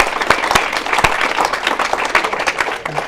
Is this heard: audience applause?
yes